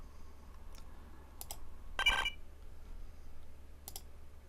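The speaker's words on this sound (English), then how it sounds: "So I'm going to click accept." Computer mouse clicks while setting up Windows XP in VMware: a few sharp, isolated clicks spread apart, one slightly louder and fuller in the middle, over a low steady hum in an otherwise quiet room.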